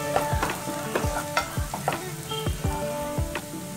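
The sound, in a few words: frying and stirring potato samosa filling with turmeric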